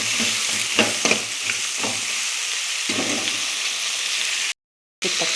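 Tomatoes being stirred into a sizzling frying-pan mixture of seasoned flattened rice, with steady frying hiss and repeated scraping strokes of a spoon, close and alone, then a brief cut of silence near the end.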